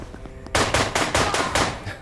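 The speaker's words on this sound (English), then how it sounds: "And then shoot him." Gunfire in the John Wick Hex video game: a rapid string of about seven sharp, loud shots in quick rhythm after a quieter lead-in.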